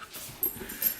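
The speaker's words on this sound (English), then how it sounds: "And that's our dog." A dog whimpers and pants close by in short, soft breathy bursts, two higher whines near the end.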